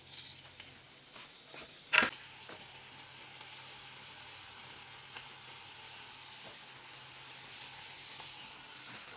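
Ham sizzles steadily in a frying pan at a Russian home breakfast, a soft continuous crackle with a single sharp clink of utensil against pan near the start.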